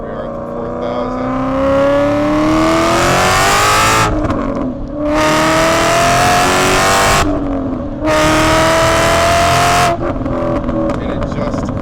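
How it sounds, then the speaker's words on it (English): A supercharged 2011 Ford Mustang GT accelerates hard through the gears, its engine note climbing loudly with supercharger whine, brief dips at each shift, heard from inside the car. "we'll roll into second gear. And the boost comes on immediately, guys. We got a supercharged Mustang."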